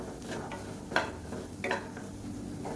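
A spoon scrapes and taps against a frying pan as egg is stirred into black chana, with soft clatter and a faint sizzle underneath, heard close and quiet.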